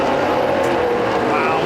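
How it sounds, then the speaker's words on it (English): NASCAR race car engines roaring down the backstretch during the 2011 Keystone Light 200, a steady, loud drone of horsepower with no breaks. "listen to that horsepower down the backstretch"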